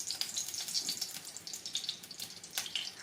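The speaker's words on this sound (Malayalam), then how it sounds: "ഒഴിക്കട്ടെ വെളിച്ചെണ്ണ. ഞാൻ വെളിച്ചെണ്ണ ഒഴിക്കുകയാണേ." Coconut oil is poured into a hot pan, giving a quiet, close crackling sizzle with light splashy bursts and no talking.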